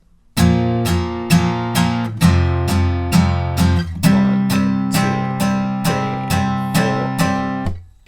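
Electric guitar strums chords for the second line of the second chorus of a song, about eight even, loud, ringing strokes with a chord change midway and no voices.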